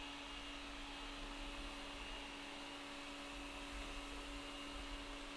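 A Thamtu G11 robot vacuum cleaner runs with a steady, even motor whine and brush hum, a constant near drone with no pauses and no voices.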